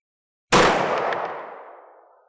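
A single .30 Super Carry pistol shot fired into a ballistic gelatin block: one loud, sharp report that rings out and decays over about two seconds, with no talking.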